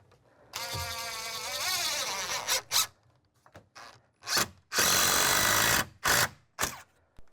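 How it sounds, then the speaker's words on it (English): Cordless drill driving 3-inch construction screws into wall framing wood, with a long rising whine and several shorter bursts of the drill in close, loud succession, separated by brief pauses. "I'm going to attach this with some 3-inch construction screws"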